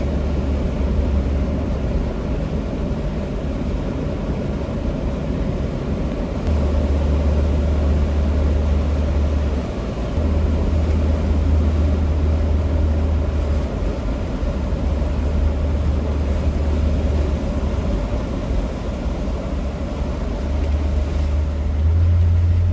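A car rolls slowly along a rocky pathway into a riverside camping spot, its engine a steady, close, low rumble with faint rattles and crunches from the rough track.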